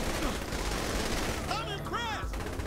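Rapid bursts from a newly acquired gun in Saints Row The Third, loud and close, running over game noise while voices chatter on top.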